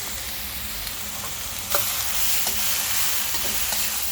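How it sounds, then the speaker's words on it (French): Thin potato slices with Sichuan pepper sautéing in a pan while being stirred, a close, steady hiss of frying with a louder surge partway through and a few scraping clicks from the stirring. "On les fait revenir. On va mélanger."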